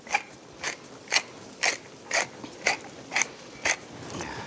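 Nine crunching grinds from a pepper mill cracking coarse pepper over a scallop salad, evenly spaced twists about half a second apart, close and crisp with no speech.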